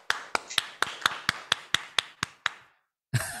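A group claps in a fast, even rhythm, about eleven sharp, loud, synchronized claps, to reward a correct answer for the North Kalimantan team at a children's religious quiz competition. The clapping stops abruptly, and after a short silence another sound begins.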